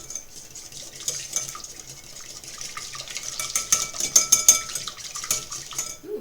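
A utensil stirs pecan pie filling with maple syrup in a bowl, giving quick clinking scrapes and taps that grow busier and louder toward the end, close by and with no voices.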